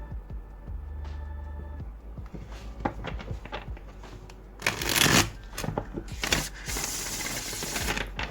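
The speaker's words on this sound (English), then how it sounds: "Let's keep shuffling." Tarot cards being shuffled by hand in bursts of riffling and sliding, with brief loud flurries partway through, close and with no talking.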